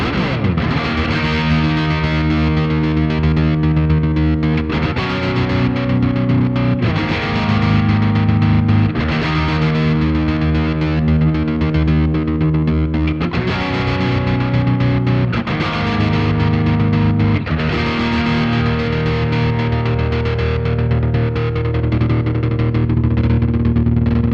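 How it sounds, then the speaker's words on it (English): Electric guitar run through a Boss MD-200 slicer effect, its speed swept by an expression pedal, gives sustained distorted chords chopped into a steady pulsing rhythmic pattern, loud and continuous throughout with no talking. "For this example, I'm using the slicer. This is a fantastic tool for creating rhythmic patterns that you can blend in with your guitar sound."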